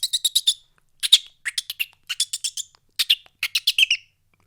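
A human voice imitates a frightened blackbird flying off, giving rapid bursts of sharp, high chipping calls in quick clusters separated by short pauses, close and clear with no other sound.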